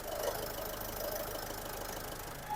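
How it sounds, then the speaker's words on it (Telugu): A 2015 Ford EcoSport Titanium petrol engine idles with a steady, even hum, heard up close on its own with no voices. "ఇంజన్ అయితే చాలా సైలెంట్ ఉందండి."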